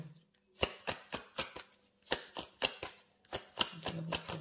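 Tarot cards shuffled and drawn in quick irregular bursts of crisp papery riffles and slaps, close and fairly quiet, with short pauses between groups.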